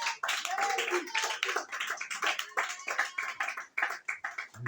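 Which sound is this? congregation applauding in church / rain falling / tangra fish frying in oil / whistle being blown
congregation applauding in church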